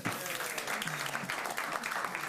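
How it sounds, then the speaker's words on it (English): An audience at a tech talk claps for a speaker, a steady, fairly faint patter of many hands held at an even level throughout. "that'll give us a chance to give you a clap"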